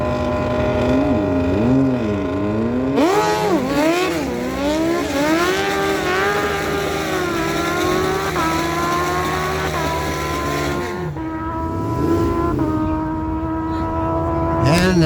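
Drag race at Miramichi Dragway, a Kawasaki in the left lane launching against a car on the right, with engines revving, rising through gear changes and screaming down the strip, loud and close, under a track announcer's voice.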